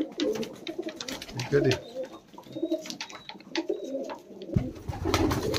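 Punjabi Malwai pigeons coo in low, repeated bursts at night, close by and fairly loud, while someone speaks briefly over them.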